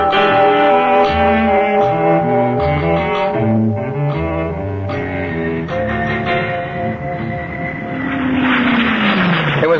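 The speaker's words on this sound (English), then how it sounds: "It was only 2 hours by air back to the city where I'd lived most of my life." A dramatic sound effect of an airplane in flight: a loud, sustained engine drone with wavering tones that swells toward the end as though passing close, no voices.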